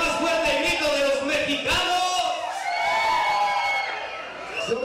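A crowd at a Mexican regional music concert at an Alabama venue shouts and cheers together in a sustained roar, with long overlapping yells and whoops rising and falling, loud and continuous.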